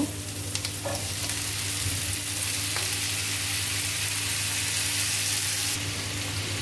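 Bitter gourd and potato, four gourds and one potato, fry with small shrimp and onion in a pan, giving a steady, loud, continuous sizzle with faint stirring scrapes and no talking.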